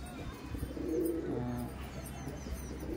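Andhra breed pigeon, a tournament bird, cooing close by in a series of low, throaty coos over a steady background hum.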